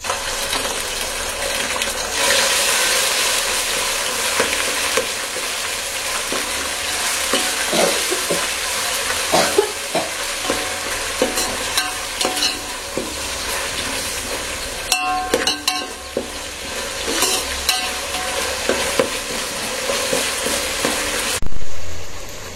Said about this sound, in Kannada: ಪೇಸ್ಟ್ ರುಬ್ಬಿಟ್ಕೊಂಡಿದ್ದೀನಲ್ಲ ಅದನ್ನ ಮಿಕ್ಸ್ ಮಾಡ್ತಾ ಇದ್ದೀನಿ.